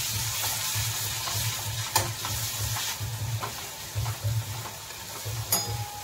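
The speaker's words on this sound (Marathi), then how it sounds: "आता मी अर्धा चमचा भरून अद्रकला आलं आणि लसणाची पेस्ट टाकली. आता मिक्स करून घेऊया" Ginger garlic paste sizzles and fries in a pan, with a continuous sizzle under several sharp scraping and clinking stirring strokes from a spoon against the pan, no talking.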